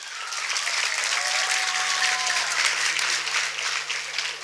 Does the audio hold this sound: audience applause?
yes